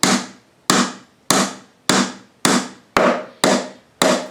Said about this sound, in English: finish the hammering